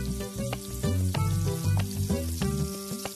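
Onion frying in oil in a home kitchen makes a loud, close sizzle, punctuated by repeated sharp scrapes of a spoon or spatula stirring the pan, with no talking.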